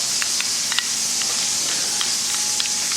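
Pork chops fry in a pan for honey mustard pork chops, giving a steady bright sizzle with small pops and crackles scattered throughout. No talking.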